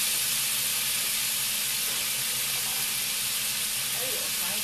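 Honeyaki beef skewers sizzle as they cook, a continuous loud hissing fry that stays steady and close throughout, with a faint low hum beneath.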